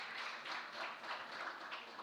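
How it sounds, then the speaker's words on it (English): Audience applause at an OECD and Universidad del Rosario event, a steady dense wash of clapping held at moderate level for the full two seconds, with no voices over it. "applause, please."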